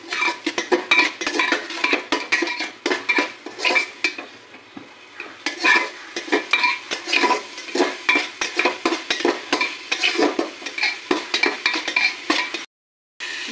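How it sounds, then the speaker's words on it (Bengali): Ginger, garlic and green chili paste is stir-fried for chicken tikka biryani, with a spatula scraping the pan in quick, rhythmic strokes over a soft sizzle that stops briefly near the end. "মশলাটা আমি দিয়ে দেবো। ভালো করে কষিয়ে দেবো।"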